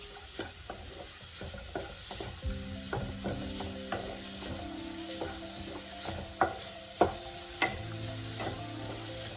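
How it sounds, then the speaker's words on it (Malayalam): Chopped onion sautéing over full flame in a pan for paneer butter masala, a steady sizzle with repeated scraping and stirring clicks and a few sharper knocks of the spoon against the pan, close and continuous. "ഇനി ഇതിൽ നന്നായി സോട്ടേ ചെയ്ത്"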